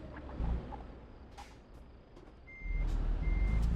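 Truck reversing beeps in Euro Truck Simulator 2, a series of evenly spaced electronic beeps over the low rumble of the diesel engine, with a short air-brake hiss and engine noise rising toward the end.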